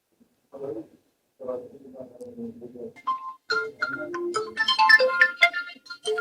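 A phone's melodic ringtone plays clearly, opening with a few short low notes and then climbing into a brighter, busier tune.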